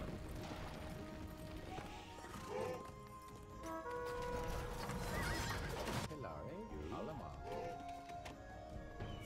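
Horses neigh and whinny repeatedly over clattering hooves during a battle in Age of Empires II: Definitive Edition, Return of Rome. The game mix is dense and busy, with voices mixed in among the horse sounds.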